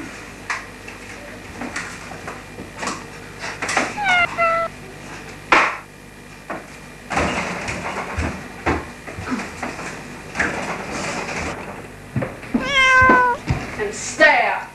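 A cat meows several times, drawn-out plaintive cries at close range, mixed with knocks and household clatter, with people talking in between.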